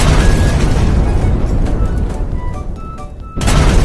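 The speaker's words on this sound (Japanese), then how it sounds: "では、予告通り爆破します" A cartoon-style explosion set off after a 3-2-1 countdown in a toy train play scene, a loud sustained rumbling boom that fills the clip and cuts off briefly near the end before resuming.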